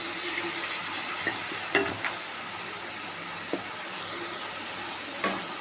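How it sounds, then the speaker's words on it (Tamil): Chopped bottle gourd sautés in hot oil with tomato for a South Indian poriyal, a steady frying sizzle broken by occasional clacks of a spoon stirring in the pan. "இதுவும் கொஞ்சம் நேரம் எண்ணெயில் வதக்கிட்டு தான் தண்ணி ஊற்றி வேக வைக்கணும்"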